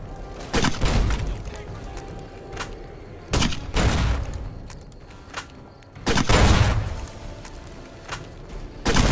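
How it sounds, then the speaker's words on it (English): Grenades and gunfire burst in Fallout: New Vegas, with three heavy explosive booms and rattling shots over about nine seconds, loud and close amid steady game noise. "He's throwing grenades!"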